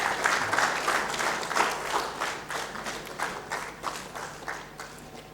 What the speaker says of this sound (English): Ladies and gentlemen, can we have a loud round of applause as the unveiling happens?